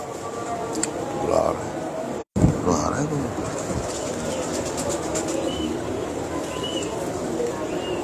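Rampuri breeding pigeons cooing softly amid background noise, with a brief dropout partway through and some faint indistinct sounds around them.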